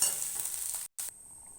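Water poured into a hot pan of rice and spices while cooking muri ghonto gives a loud, hissing sizzle. It cuts out briefly, then settles into a quieter, steady bubbling hiss.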